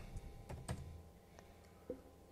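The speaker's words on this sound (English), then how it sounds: "So we can type in the following command here" Keystrokes on a computer keyboard while a command is entered on a Linux machine, a handful of faint, irregular clicks close by with quiet gaps between them.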